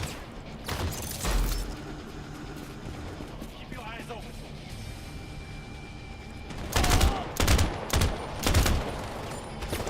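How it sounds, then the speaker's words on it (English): Bursts of gunfire from enemies and a sentry turret aimed at the player in a shooter video game, with a few sharp shots early on and a cluster of loud rapid bursts near the end over steady game noise and speech. "I'm being shot at."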